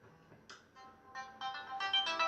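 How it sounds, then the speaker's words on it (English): A phone ringtone plays a short rising electronic melody, starting faint and growing louder over a couple of seconds, heard alone indoors. "I just got to answer my phone"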